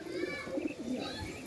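Pigeons cooing softly nearby: a few short, throaty, rolling coos in quick succession, quiet and low, with no talking.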